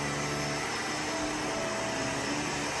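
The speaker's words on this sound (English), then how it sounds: "This vacuum is a Shark" A Shark vacuum cleaner runs steadily on a kitchen floor, giving a continuous broadband whir with a constant motor hum throughout, close and fairly loud, with no talking.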